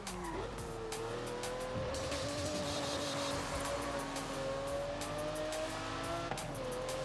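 A drift car in Forza Horizon 5 squealing its tires through a long slide, the engine droning steadily with a rising, wavering pitch, continuous and loud with no break.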